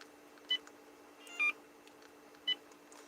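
A few short electronic beeps from deleting caller ID on a phone, three brief tones spaced about a second apart, fairly quiet over a low steady background hum.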